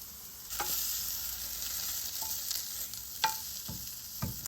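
Lentils sizzling in a hot pan: a constant hiss of frying broken by a few clinks and scrapes of stirring, close and moderately loud with no talking.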